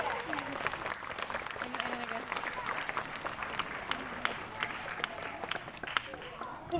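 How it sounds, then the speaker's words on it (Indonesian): Children at a storytelling event clap in scattered, uneven bursts, faint and somewhat distant, with voices chattering around the clapping. "Silakan kakak-kakak, tepuk tangan yang meriah."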